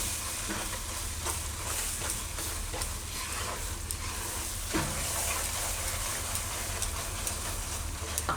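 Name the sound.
stirring cream (malai) into mohanthal mixture in a pan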